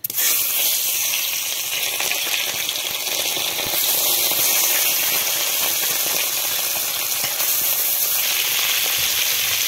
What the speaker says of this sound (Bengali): এখন মাছে লবণ হলুদ মাখিয়ে ভেজে নিব।